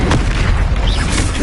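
Confringo blasting spell explosions in the video game Hogwarts Legacy, a dense, continuous roar of loud booming blasts that fills the whole moment with no pause.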